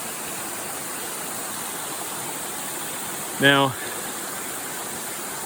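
A waterfall pours in a steady, broadband rushing roar that holds evenly throughout, with someone briefly speaking over it partway through.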